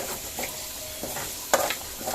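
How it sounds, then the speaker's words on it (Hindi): Steady oily sizzling fills the background as garlic fries in a wok, with occasional scrapes and light clinks of a utensil stirring. "इसमें लहसुन हमने डाली है, इसको भूनेंगे हम"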